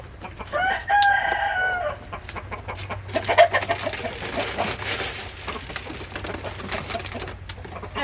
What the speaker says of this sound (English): Right now I need to feed the chickens